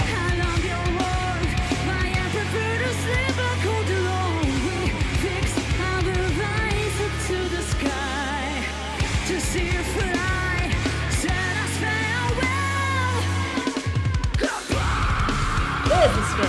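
A harsh metal vocal scream from a song, performed live at Wacken Open Air, sits inside a dense, loud wall of distorted guitars, bass and drums that runs without a break.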